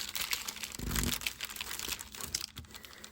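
Parchment paper crinkling and crunching as it is handled and folded while making no-sew ribbon or lace envelopes, with a denser burst of rustling near the start and lighter, scattered crackles afterward, close and fairly quiet.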